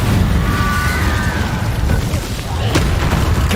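Incendio fire spell cast in Hogwarts Legacy, a dense roaring burst of game effects with low rumbling booms and a faint rising whistle, a sharp crack near the end, all loud and continuous.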